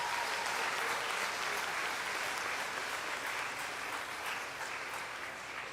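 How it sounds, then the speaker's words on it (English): Loud, dense applause from the audience at a university convocation ceremony in Guyana, cheering the graduates, a continuous wash of many hands clapping that tapers slightly toward the end. "I'd like you all to give yourselves, the graduates, a huge round of applause for your achievements"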